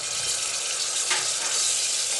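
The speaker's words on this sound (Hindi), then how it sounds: "अभी मैं इसमें टमाटर डाल रही हूँ" Tomatoes hit frying onions in hot oil, giving a steady, bright sizzle with a short surge of crackle partway through; close and continuous, no voices.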